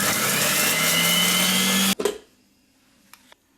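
A Monsieur Cuisine Silvercrest food processor chops a quartered plum with sugar, a loud steady whirring blade that runs for about two seconds, then stops abruptly, leaving a brief clatter and faint rattles in near silence.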